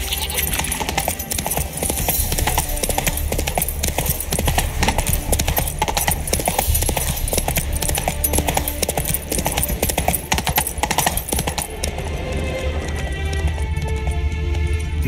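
A horse trots through the fantasy video game The Witcher 3: Wild Hunt, its hoofbeats a dense, continuous clatter beneath a loud, full game soundscape.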